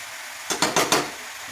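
Chopped bottle gourd is tossed in a pan with a spatula: four quick scraping, sizzling strokes in a row, close and fairly loud, over a quiet background.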